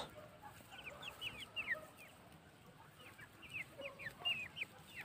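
Small Light Brahma chicks peep and cheep in quick, high bursts, scattered through a quiet background at moderate distance.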